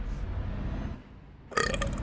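A single loud, close burp erupts after a stretch of low rumbling background, lasting about half a second with a raspy, throaty tone and no talk over it.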